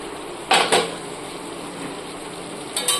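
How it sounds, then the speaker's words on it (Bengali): A lid comes off a cooking pot of fish curry with two metallic clanks close together, a quiet stretch, then two more clinks near the end. "এবার ঢাকনাটা খুলে দেখি।"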